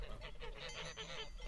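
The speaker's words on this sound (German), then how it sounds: "Da bleiben die Vorbeifahrenden schon mal stehen und staunen über die Eleganz dieser einheitlich dahinschreitenden, schnatternden Herde." Flock of geese cackling and honking together on a green meadow by a poultry farm, a dense, continuous chatter of many birds close by with no talk.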